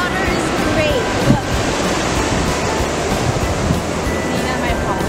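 Pacific surf on a San Diego beach makes a continuous loud wash of breaking waves and foamy rush, with wind buffeting close to the microphone.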